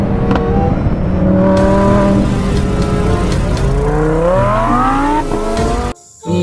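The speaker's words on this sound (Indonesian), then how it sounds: "Ini ada mobil balap Lamborghini teman-teman" An orange toy Lamborghini race car, with a close, steady motor whir and rising, revving tones that climb in pitch for several seconds before cutting off abruptly near the end.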